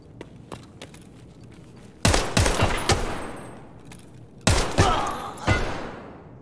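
Gunfire in Escape from Tarkov: a few faint distant shots, then two loud close bursts of rapid fire with echoing tails.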